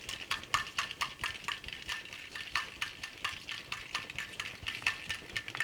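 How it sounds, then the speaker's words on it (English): Rapid metallic rattling and clanking of wire blender balls inside a plastic shaker bottle of cold brew coffee, shaken in quick, steady bursts. "I can shake it up with the little blender balls inside"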